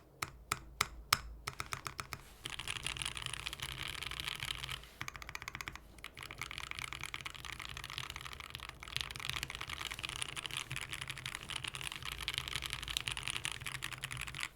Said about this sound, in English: Decently consistent typing experience throughout. But the sound, oh my goodness.